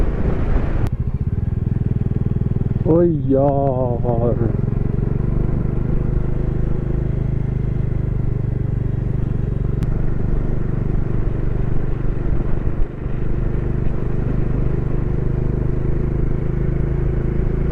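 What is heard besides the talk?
motorcycle cruising on mountain road near Kargil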